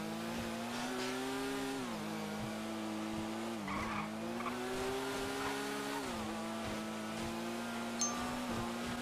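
Car engine revving and accelerating in GTA RP, a steady moderately quiet engine tone rising and falling in pitch with gear changes, heard alone with faint tyre noise.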